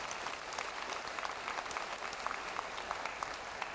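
Sustained applause from an audience at a ceremony marking the tenth anniversary of Daegu's declaration as Korea's education capital, a dense steady clatter of many hands held at an even level for the whole stretch, with no voices over it.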